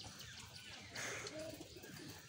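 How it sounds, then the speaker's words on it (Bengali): A red wild pigeon coos softly, a short low call rising briefly over a faint background hum. "এটা অরিজিনালি বুনো কবুতর"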